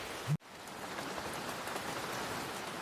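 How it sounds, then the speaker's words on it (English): Steady rain pours down in a continuous, even hiss after a brief soft thump at the start, with no voices. "It's been raining non-stop."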